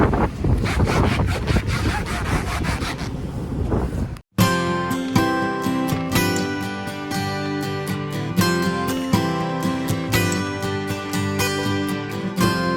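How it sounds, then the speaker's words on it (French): Strong wind on a ferry deck buffets the microphone with a roaring, gusty rush for about four seconds, then cuts abruptly to a steady, layered tonal sound. "Je sais même pas si vous allez m'entendre avec tout ce vent"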